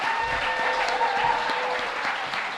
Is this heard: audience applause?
yes